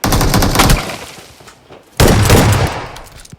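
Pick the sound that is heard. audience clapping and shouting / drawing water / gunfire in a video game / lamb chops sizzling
gunfire in a video game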